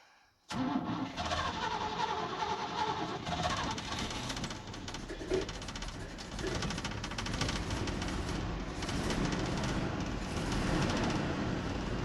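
A 1984 Chevy C10 work truck with a Quadrajet carburetor cranks and fires right up, then settles into a steady, rumbling idle that stays loud and close with no other sound over it.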